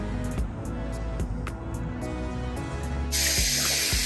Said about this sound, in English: Here's the water.